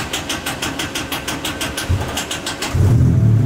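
A car engine is cranked with a fast, rhythmic starter whir, then catches and settles into a louder, low, steady idle.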